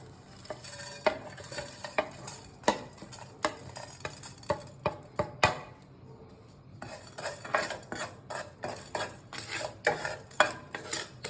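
Whole spices deep frying in a pan over a medium flame for homemade chicken pickle, with a steady sizzle under repeated sharp clinks and scrapes of a spoon stirring against the metal pan, close and moderately loud.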